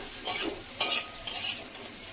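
Bitter gourd frying in a pan, a low sizzle broken by several quick scraping strokes of a spatula as it is stirred, close and fairly clear, with no talking.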